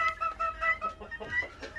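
Hens clucking close by in a coop, Silver Brakel, Bresse and Sussex birds, giving a run of short, uneven murmuring calls.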